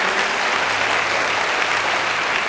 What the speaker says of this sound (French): Tu peux acclamer pour le Seigneur si tu veux.